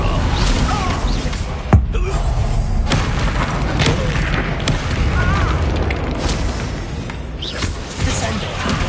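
Blasts from the Bombarda spell in a Harry Potter video game come as booming impacts amid a busy, continuous din of spell effects. Voices talk and shout throughout.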